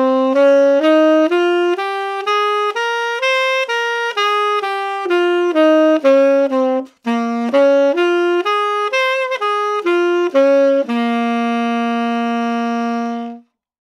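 A Dorian minor scale practice pattern on a single-line harmonic instrument, played as clean stepwise phrases that climb and fall in a steady rhythm, with one brief pause and a long sustained final note, without any speech.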